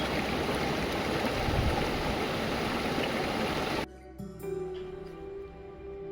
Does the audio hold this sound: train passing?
no